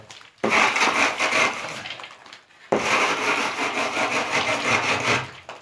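A straightedge rule scrapes back and forth across fresh, still-damp wall plaster in two long, loud, gritty passes separated by a short pause.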